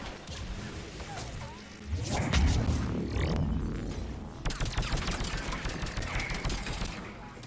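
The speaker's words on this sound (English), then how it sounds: "No, it is a sniper rifle that shoots like a assault rifle." Rapid-fire sniper rifle in Mass Effect 3, a dense burst of fast repeated shots with heavy impacts and crashes, loud and continuous over game noise.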